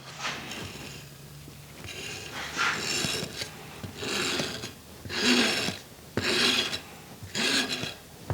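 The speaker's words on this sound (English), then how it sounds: "use your trowel to fully embed the fabric" Trowel scraping roof fabric into mastic in repeated rasping strokes, about six pulses spaced roughly a second apart, close and moderately loud with no talking.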